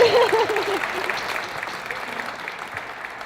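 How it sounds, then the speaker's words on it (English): Wildcat fans in an audience give steady applause at an anniversary program, a broad wash of clapping that starts fuller and gradually thins and fades, with a voice briefly heard at the start. "Well, go ahead and clap, Wildcat fans."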